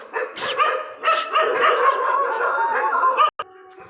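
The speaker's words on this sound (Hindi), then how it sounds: "उन कुत्तों से तो डर नहीं है मुझे, उन कुत्तों की आवाज़ से डर है" Neighbourhood dogs at night bark and yip in several loud, close bursts mixed with whining cries, ending in a sudden cutoff.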